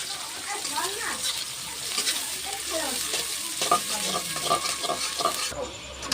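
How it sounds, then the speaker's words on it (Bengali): Chopped onions frying in a pan over cumin seeds, giving a steady close sizzle with scraping stirring strokes throughout and a brief quieter moment near the end. "পেঁয়াজগুলো হালকা করে ভেজে নেব।"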